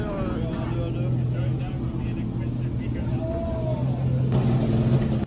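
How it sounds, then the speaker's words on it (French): Front-engine 1950s racing cars drive past at the Monaco Historic Grand Prix, a continuous loud engine drone with low rumbling tones and rising revs, while someone talks over it. "je vous présente les voitures à moteur avant, série C des années 50"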